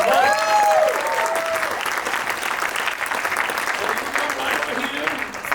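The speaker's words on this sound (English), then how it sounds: "Give him a round of applause." Audience applause at a parody musical stage show, broad clapping from a crowd with some cheering and whistles near the start, holding steady throughout.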